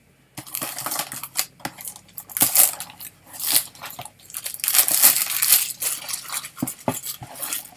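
Unwrapping a 2021 Topps Heritage baseball card blaster box: close, crinkly rustling of plastic wrap and cardboard, with sharp tearing bursts and pauses as the packaging is pulled open. No one speaks.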